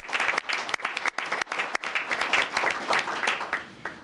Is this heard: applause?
yes